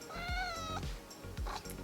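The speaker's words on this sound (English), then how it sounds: "My cat just jumped on here." A house cat gives a short, close meow with a rising, drawn-out tone, followed by soft bumps and a faint second call, quiet and alone indoors.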